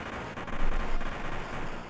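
A blasting Area Bomb attack in the Chrono Trigger game, a short burst of dense, rumbling explosive noise lasting under two seconds, loud and steady with a swelling peak partway through.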